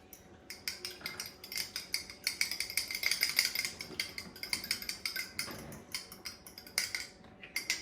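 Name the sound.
whisking eggs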